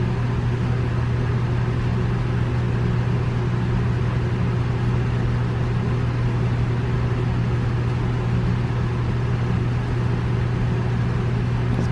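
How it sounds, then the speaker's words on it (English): Electric fan running indoors, giving a steady low hum and airy whooshing noise that stays constant and fairly loud throughout, with no talking over it. "we got the wind stirred up in here with the fan running"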